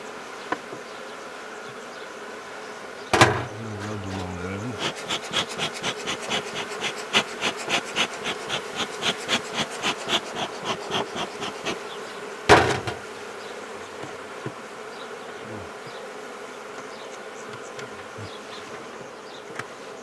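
Close, continuous buzzing of many honey bees at a hive, pulsing in a quick rhythm, with two sharp knocks breaking through partway.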